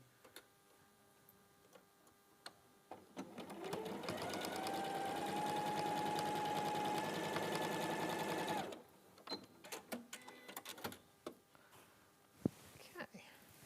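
A sewing machine runs a steady quarter-inch seam for about six seconds, a fast, even mechanical whir with ticking, followed by clicks and handling sounds of fabric.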